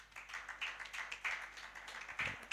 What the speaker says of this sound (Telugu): పురుషులందరూ ఒకసారి గట్టిగా చప్పట్లు కొట్టండి